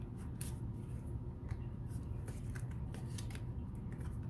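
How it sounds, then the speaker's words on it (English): Tarot cards are drawn and handled close by, with soft papery snaps and rustles scattered over a steady low background hum and no talking. "So let's get two more cards here."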